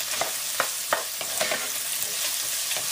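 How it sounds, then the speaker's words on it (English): Scallops fry in a little olive oil for a Fra Diavolo sauce, giving a bright, even hiss with a few soft taps and shuffles of the pan or utensil, close and steady, with nobody speaking. "We've got a little bit of olive oil back here for our scallops to get rolling."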